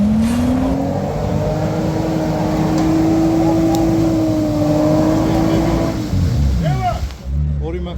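At an organized drag race meet in Khashmi, two cars launching together hold a loud, sustained engine drone that drops away near the end, with voices talking over it.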